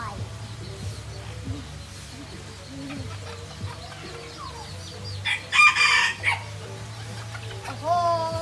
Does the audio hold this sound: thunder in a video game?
no